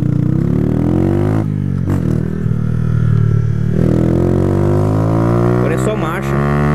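A 2008 Honda CG 125 Fan motorcycle engine revs up close, its low harmonic drone rising and falling in pitch, with someone talking over it.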